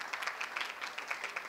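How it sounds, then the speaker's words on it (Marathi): A kirtan gathering in Vilholi claps for the woman performer, giving a short, faint, fairly steady patter of hands from a distant audience. "ताईंसाठी सर्वांनी टाळ्या वाजवा"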